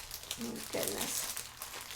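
Cellophane wrapping crinkles as a package of washi paper is unwrapped, a short close-up rustle and crackle in a quiet room.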